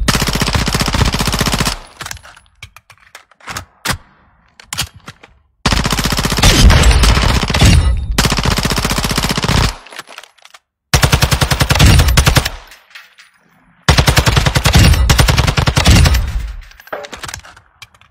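P90 submachine gun fire in a video game comes in loud, sustained full-auto bursts separated by brief silences, several long strings of rapid shots up close.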